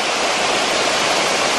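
River water pours over and below a weir in a steady, loud, broadband rush, continuous and close with no pauses or voices.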